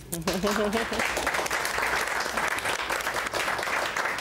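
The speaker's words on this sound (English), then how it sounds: "Round of applause." A studio audience at a TV news special breaks into steady applause. A voice is heard briefly at the start, and then the clapping continues loud and dense to the end.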